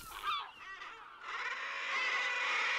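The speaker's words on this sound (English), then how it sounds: "Here, seabirds come together in dense colonies to breed." Dense colony of seabirds calling on sheer sea cliffs, a continuous loud chorus of overlapping harsh, honking cries that swells into a steady wall of sound.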